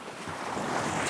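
Sea waves wash onto the shore at Ust-Kara as a dense, steady roar with wind buffeting the microphone, loud and close with no voices.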